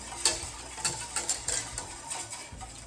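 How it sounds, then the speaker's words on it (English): Grits cooking in a pot are whisked in a few quick, irregular scrapes and clinks against the metal, fairly faint and close, with no talking. "Another whisk."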